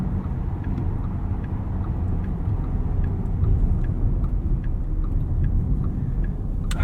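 A 2024 Porsche Cayenne Turbo E-Hybrid Coupe cruising on the road, its engine and tire rumble forming a steady, loud drone heard from inside the cabin, with faint ticking clicks scattered over the top.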